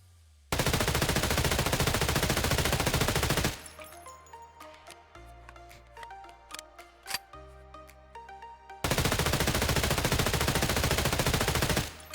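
An MPX submachine gun in Escape From Tarkov fires two long sustained full-auto bursts, loud and dense, separated by a stretch of clicks and mechanical weapon-handling noises.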